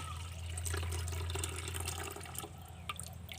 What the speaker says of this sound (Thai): เราจะมาเทน้ำเบนออก